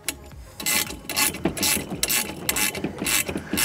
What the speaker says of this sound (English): it's a ring spanner with four different size ratchets